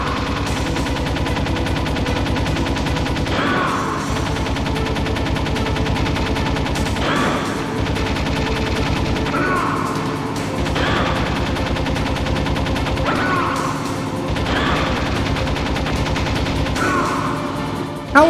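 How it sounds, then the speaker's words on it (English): Continuous gunfire in a Metal Gear Solid boss fight, dense overlapping shots and periodic sharp bursts over steady game background noise, loud and sustained throughout with no talking. "How are we shooting each other?"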